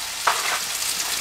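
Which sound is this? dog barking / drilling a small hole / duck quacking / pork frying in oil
pork frying in oil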